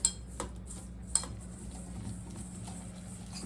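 Ingredients for a tandoori chicken marinade being mixed in a bowl on a terrace, with a few sharp clinks of a utensil against the bowl over a low, steady background hum.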